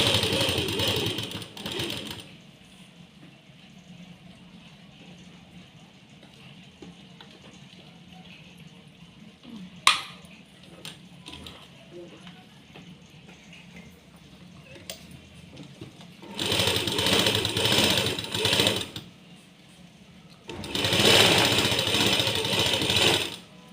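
A sewing machine stitches a half-inch seam in two short, loud bursts near the end, after a long stretch of quiet room tone with faint clicks and handling noise.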